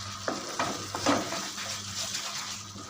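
Paneer bharta with fresh cream being sautéed in a pan, a close steady sizzle broken by a few sharp spatula scrapes and stirs near the start, with no talk.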